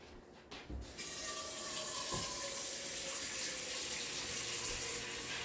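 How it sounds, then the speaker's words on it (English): Water runs steadily from a tap into a cooking pot holding smoked turkey wings, a close continuous splashing hiss with a faint rising tone as the pot fills, heard alone. "I'm going to add just a little bit more water."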